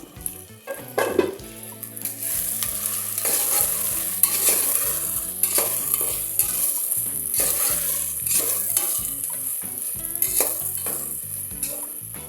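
Cloves, cardamom, mace, cinnamon, marathi moggu and green chilli fry in hot oil with a busy, close sizzle, stirred again and again with scraping strokes and light metallic clinks.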